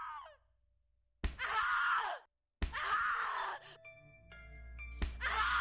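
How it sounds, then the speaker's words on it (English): Repeated anguished screams and wails in the horror video game The Cat Lady, three long loud bursts separated by silence, with a faint mechanical hum and tones between them. "Scream your lungs out."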